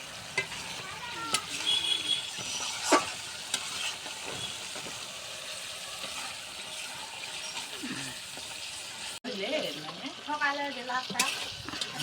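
A village breakfast fries in a pan while someone stirs it, a close sizzle broken by scraping and clinking of utensil on metal, with a brief pause and faint voices in the background.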